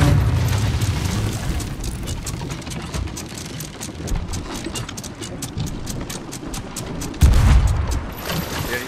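Ship cannons firing in the pirate video game Sea of Thieves, in arena mode: a dense run of booming blasts and mechanical clatter goes on throughout, with one heavy, loud burst near the end.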